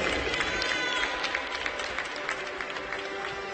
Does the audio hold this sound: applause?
yes